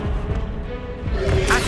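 Incendio fire spell cast in Hogwarts Legacy, a short crackling whoosh and burst of flame with a brief bright flare near the end, heard alone.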